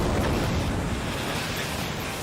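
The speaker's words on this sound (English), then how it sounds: "The bottom section of the Moose River is known for insane stretches of whitewater." Whitewater rapids on the lower Moose River in upstate New York swollen by high water roar as a dense, continuous rush, loud and close, with no voices over it.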